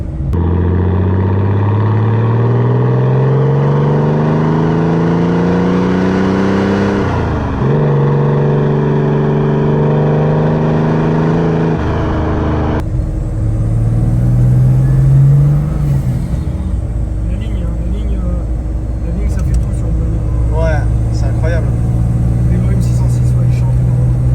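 Mercedes 280SE W108 lowrider with a swapped OM606 diesel engine revs repeatedly, its note climbing and dropping in several long sweeps between steadier idle stretches, loud and close.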